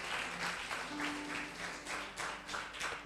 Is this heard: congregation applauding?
yes